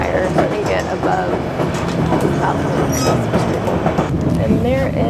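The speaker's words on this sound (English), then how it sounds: "The train's going out a little bit." White Pass Scenic Railway train rolling along in Alaska, a steady loud rumble with clattering wheels and occasional squeals, with people talking over it throughout.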